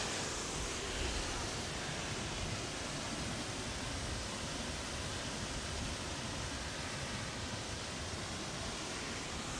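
Water roars steadily from a large fountain-style waterfall at Parque das Nações in Lisbon, a dense, continuous rushing spray heard close and loud throughout, with no clear break.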